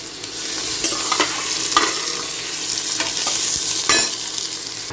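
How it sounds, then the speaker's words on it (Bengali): Potato and tomato pieces sizzle steadily in a hot pan while a spatula scrapes and stirs in several distinct strokes, close and alone with no voices. "আলুটা একটুখানি কিন্তু ভাজা ভাজা হয়েছে। এরপরে আমি এর মধ্যে এই যে টমেটোগুলো সেগুলো দিয়ে দিলাম।"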